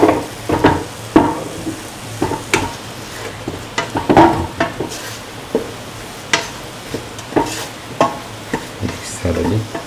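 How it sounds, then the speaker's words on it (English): Garam masala and mixed spices being stirred in a frying pan, with repeated close scrapes and knocks of the spoon setting an uneven rhythm over a soft, continuous sizzle. "Mix thoroughly."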